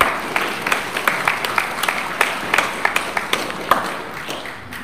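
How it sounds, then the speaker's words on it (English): Church congregation clapping during a Melbourne service, a scattered, uneven patter of hands with distinct sharper claps standing out, moderately loud and continuing for several seconds without speech. "why are you not even clapping here for Jesus?"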